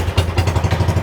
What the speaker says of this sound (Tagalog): Paalis na ngayon yung bangka.